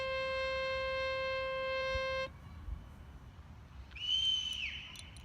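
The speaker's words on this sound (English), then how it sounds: "Not sure what all that whistling is about." A steady, piercing whistle blown outdoors to call a child holds for about two seconds and stops abruptly, then a fainter, wavering second whistle rises and fades in the distance.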